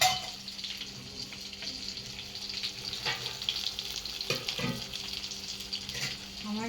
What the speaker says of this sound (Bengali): যে পুরো মাছ ভাজা ভাজি চলছে